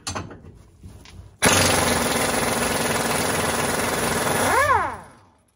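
A Mack Thunder impact gun breaks loose suspension bolts on an S10 rear axle, a loud sustained burst of hammering buzz lasting a few seconds before winding down with a brief rising whine, close and alone.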